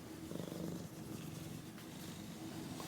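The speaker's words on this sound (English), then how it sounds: "She's rolling around in it, and she's purring. Can you hear her purring?" A cat purrs up close while rolling around on a blanket, giving a continuous low rumbling purr with a steady pulsing rhythm and no talk over it.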